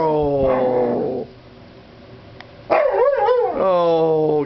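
A dog gives loud, close yipping barks and whimpers in bursts, pausing briefly before barking again, while a person talks over it.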